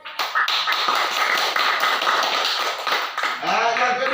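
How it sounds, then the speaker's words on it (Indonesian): Applause in a classroom for a student group comes as dense, steady clapping from many hands throughout. A voice rises near the end. "Bapak berikan aplaus untuk kelompok 1."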